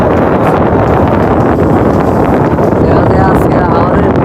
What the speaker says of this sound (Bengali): চলছে আমাদের হাওরের ইঞ্জিন।